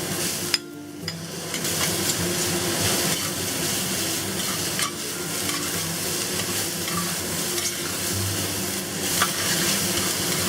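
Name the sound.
stir-frying pressed bean curd with onions and shredded pork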